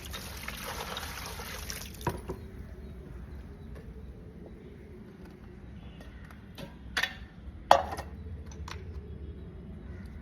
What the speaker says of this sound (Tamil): கொஞ்சம் தண்ணி ஊற்றிக்கிறோம் சூடாக